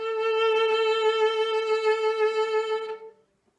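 A single sustained bowed string note with rapid, quick wavering pitch, played alone for about three seconds before fading out.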